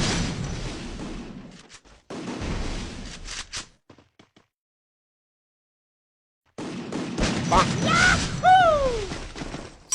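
Gunshots in a video game: a few sharp bursts of shooting mixed into busy game audio, broken by a silent gap and followed by whooshing effects.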